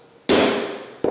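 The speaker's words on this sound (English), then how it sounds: "using a punch and a hammer" A hammer striking a metal punch to make a small dent in a brass piece, heard as one sharp, loud metallic strike with a ringing decay, then the start of a second blow at the very end.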